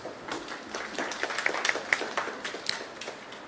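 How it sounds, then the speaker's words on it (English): Audience applause after a conference presentation, a small group clapping with distinct individual claps, moderately close, lasting a few seconds. "we can end by giving her a round of applause"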